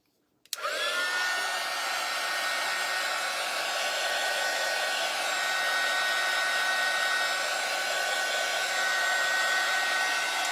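A hair dryer drying freshly painted jar, switching on after a brief click and then blowing with a loud, steady, continuous whir that holds evenly for about ten seconds, no talking.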